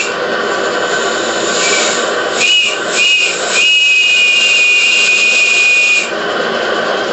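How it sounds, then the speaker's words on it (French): A Saito steam whistle on a brass, alcohol-fired boiler at about 1.5 bar blows a few short hissing toots, then one long steady shrill note of about two and a half seconds over a continuous background hiss. "sifflet Saito."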